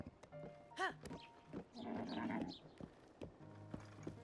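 Horse hooves clip-clopping at a light trot in the video game The Legend of Zelda: Tears of the Kingdom, with a whinny, mixed with game sounds and music at moderate loudness.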